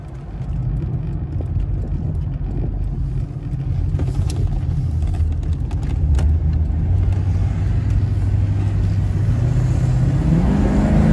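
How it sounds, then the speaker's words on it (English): A Mercedes-Benz R107 500SL with KE-Jetronic fuel injection drives along a road, its engine a steady, loud low rumble that rises in pitch toward the end as it accelerates, with no talking. "You can now even see how the car behaves on the road."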